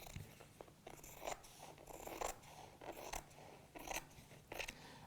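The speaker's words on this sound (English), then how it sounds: "So I'm just going to use the fabric scissors" Scissors snip repeatedly through fabric at an irregular pace, each cut a short crisp crunch, close up and fairly quiet.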